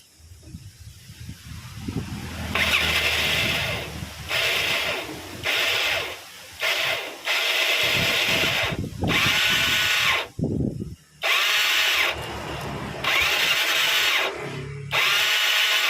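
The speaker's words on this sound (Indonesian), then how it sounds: "Dinamo starter itu tidak membawa kruk as berputar, atau putaran dinamo tidak sampai ke bagian kruk as atau los." A Yamaha Mio scooter's starter motor whirs in repeated bursts of several seconds each, spinning and slipping without turning the crankshaft, loud and close with short gaps between attempts and no talk.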